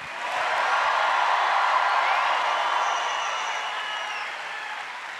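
A church congregation at a revival service breaks into a swell of applause, cheering and crowd noise, a broad, sustained roar that rises quickly and then slowly fades.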